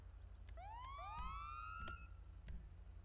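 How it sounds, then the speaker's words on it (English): Stock police siren from a roleplay video game, rising wails sweeping up repeatedly over a low engine rumble, loud and steady throughout. "I do apologize for the stock siren."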